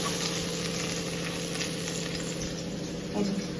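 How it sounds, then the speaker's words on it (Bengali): Pieces of eggplant fry in hot oil in a pan, a steady, close sizzle and crackle that runs unbroken throughout, with no talking. "আর এতে রান্নাটা দেখো বেগুনগুলো ভালো করে ভাজা হয়ে গেছে, বেগুনগুলো গলে গেছে।"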